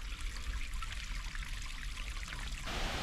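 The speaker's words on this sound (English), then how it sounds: "It's like the cool water. The waterfall against the rock." A waterfall pours onto rock, making a soft, steady rush and trickle of water, continuous and at a low level throughout.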